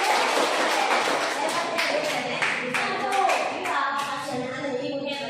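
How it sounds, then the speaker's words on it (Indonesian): A group claps hands together in a steady burst of applause, with voices mixed in underneath. "Tepuk tangan buat"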